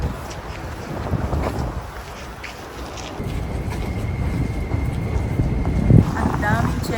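Wind gusts buffet the microphone at Sumida Park in Tokyo during cherry blossom season, a rough low rumble that swells and fades under a person talking, with faint ambient sounds in the background.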